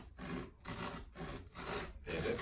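A Cutco kitchen knife saws through something in four or five even back-and-forth strokes, quiet and close, with no voices over it.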